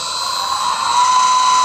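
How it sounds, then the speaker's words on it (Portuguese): Electric motor run from a frequency inverter gives a steady, loud high-pitched whine with a sharp tonal hum that rises slightly in pitch midway, sounding alone without talk. "pelo inversor de frequência, eu consigo fazer justamente o acionamento aqui do meu motor"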